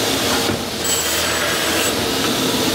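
Wooden door stiles pushed through a saw to cut their ends, a loud continuous whirring and rasping of blade through wood that holds steady the whole time, close up with no talking.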